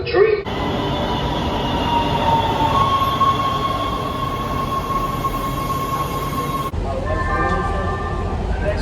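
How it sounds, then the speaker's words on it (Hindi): A Los Angeles metro train rumbles loudly into a station, a high steady whine over the rolling noise, then it slows and a squeal rises. "अभी 2 मिनट में मेट्रो आने वाली है"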